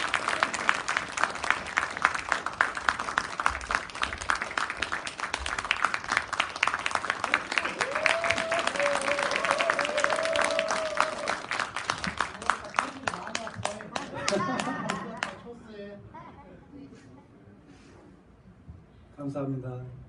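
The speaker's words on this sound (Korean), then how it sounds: "큰 박수로 청해 보도록 하겠습니다" An audience applauds before a pansori performance: dense clapping builds over a spoken announcement, then fades to scattered claps and quiet voices.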